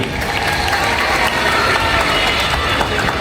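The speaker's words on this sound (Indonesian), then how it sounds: "Tuan Rumah Haji Muhammad Toha, tepuk tangan buat beliau." Large crowd at an outdoor political gathering of NU women on Madura island gives steady, dense applause for the host, loud and continuous throughout with faint cheering mixed in.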